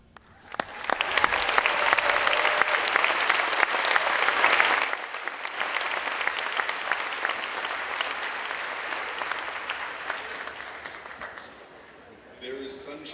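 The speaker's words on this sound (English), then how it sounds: "invite you to join me in giving a very warm round of applause for the Brian Sands Quintet" A large audience applauds the Brian Sands Quintet, sustained loud clapping that swells early, dips slightly midway and carries on steadily, with a few voices rising near the end.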